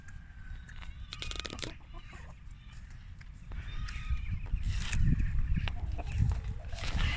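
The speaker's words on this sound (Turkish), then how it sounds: "tavuklar, horozlar falan var" Chickens and roosters cluck faintly amid crunching footsteps and rustling outdoors, with a few soft bird calls and some quiet background voices.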